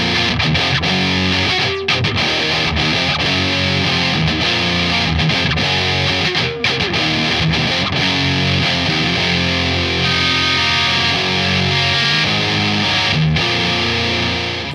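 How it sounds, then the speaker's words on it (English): Electric guitar played through a Boss MD-2 Mega Distortion pedal, its highest-gain Boss circuit with gain boost engaged, giving a loud, dense, saturated wall of distorted chords and notes that fills the whole stretch without pause. "The MD-2 here is supposed to be the highest gain pedal that Boss have ever made."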